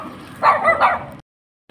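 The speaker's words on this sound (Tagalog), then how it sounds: "Yan po ang sumalubong sa amin, ang mga aso." Dogs greeting arriving visitors give a short, close burst of two or three quick barks, then fall silent.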